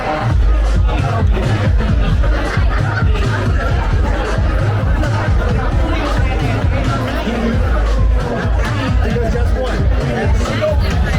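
Dense crowd chatter inside a busy Fulton Market bar in Chicago's West Loop, many overlapping voices close by with bursts of laughter, loud and continuous throughout.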